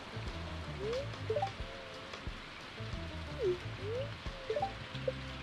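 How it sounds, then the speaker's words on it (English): Green rain falls in Stardew Valley 1.6 as a constant soft hiss, with game music and a few chirpy sliding tones playing over it. "Harvey does not care about the green rain."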